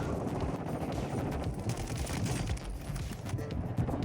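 Footsteps in Call of Duty Warzone patter rapidly and continuously within dense, loud game noise that could be distant gunfire in Vondel.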